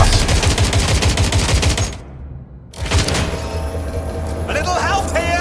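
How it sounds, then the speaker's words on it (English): Rapid gunfire fills a Watch Dogs Legion firefight, dense bursts cutting out briefly before resuming loud and close, with game voices and effects mixed underneath. "Shots fired! Shots fired!"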